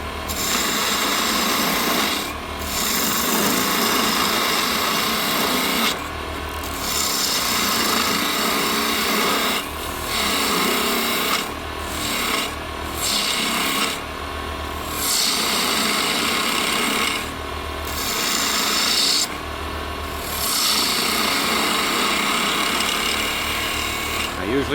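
Spindle gouge cutting wood on a lathe while turning a small Christmas tree ornament, a continuous rasping, scraping hiss close by, broken by brief pauses as the tool lifts off.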